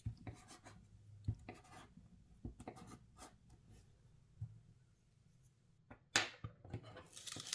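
Faint scratchy strokes of a pen or pencil numbering paper sewing-pattern panels for a skirt, in short irregular bursts with quiet gaps in between, close and soft.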